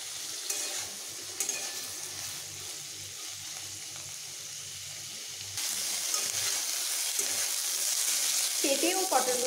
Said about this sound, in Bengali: এবার আমি পটল ও পেঁপেগুলোকে বেশ ভালোভাবে একটু ভেজে নেব।